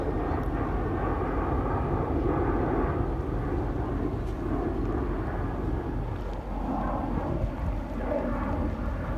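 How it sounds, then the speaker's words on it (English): Airplanes taking off from an airport near the National Mall in Washington, D.C., giving a steady, broad jet roar that holds at a constant level throughout, with some wind noise on the microphone. "Some planes taking off from the nearby airport."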